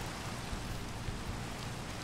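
Rain falling in a Minecraft-style game world, a steady broadband hiss of drops with no distinct pattern, moderately quiet and continuous, with no voices over it.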